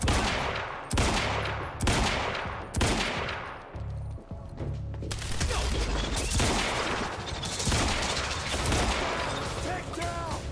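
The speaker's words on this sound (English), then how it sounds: "There's a sniper. Suppressing fire." Suppressing gunfire at a sniper in Quantum Break, with loud repeated volleys of shots in rapid bursts, then sustained rattling fire and a voice briefly heard near the end.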